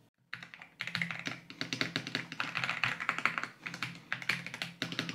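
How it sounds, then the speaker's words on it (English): Typing on an LTC Nimbleback NB832 wireless gasket-mounted mechanical keyboard: close, rapid, soft clacky keystrokes in uneven bursts, alone without talk. "That's definitely noticeable for a softer sound on this mechanical keyboard."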